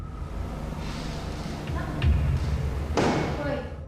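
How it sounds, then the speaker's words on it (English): Indoor thumps and a bang in a hall, with a soft creak-like rustle leading into a heavy thud around the middle and a sharper, louder bang near the end, amid low room noise. "It sounds to me like a door creaks and then something bangs loudly nearby."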